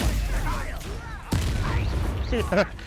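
A Confringo fire spell bursts in Hogwarts Legacy: a single sharp explosive crack near the middle, set amid ongoing combat noise and music, with voices speaking over it.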